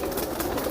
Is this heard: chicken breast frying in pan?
no